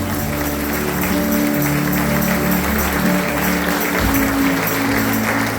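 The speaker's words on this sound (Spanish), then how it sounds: "Un aplauso a Dios." Congregation at a church event clapping for God, a dense continuous wash of applause filling the space, steady in level from start to finish.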